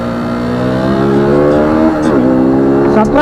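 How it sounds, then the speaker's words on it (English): A KTM Duke 200 motorcycle engine drones loudly and steadily, then blips and drops in pitch as it downshifts into a corner before climbing back up again, heard up close. "The downshift, that's what I like to test on every bike. Let's see how it takes the corner."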